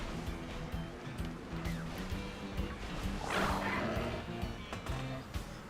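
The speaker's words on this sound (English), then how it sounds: "Ooh, there's some dogs barking outside." Several dogs bark outside, repeated yips and bow-wows at a moderate distance, sounding over a dense background of game music and ambient noise.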